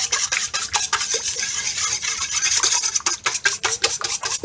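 A silicone whisk beating oil and vanilla in a large bowl, rapid rhythmic scraping and swishing strokes close up, steady and brisk with no talk.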